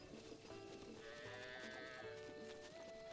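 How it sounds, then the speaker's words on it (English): Sheep in the video game Zelda: Breath of the Wild give a few wavering bleats, quiet and slightly distant, layered over steady in-game background music. "Sheeps!"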